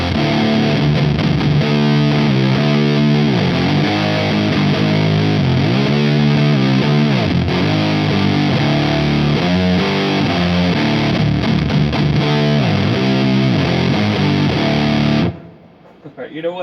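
Electric guitar played through a Frost Giant Electronics Mountain V3 distortion pedal with gain at maximum, a loud, thick, saturated wall of fuzz sustained throughout, then cutting abruptly to near silence at the end.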